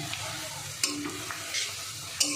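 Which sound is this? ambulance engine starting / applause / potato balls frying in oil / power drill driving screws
potato balls frying in oil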